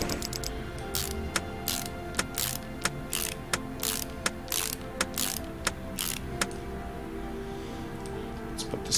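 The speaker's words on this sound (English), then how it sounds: "we can bolt the manifold back" In Car Mechanic Simulator 2018, a manifold is bolted back onto an engine with a rapid ratchet tool, making a steady run of close, crisp mechanical clicks and whirring bursts punctuated by sharp ticks.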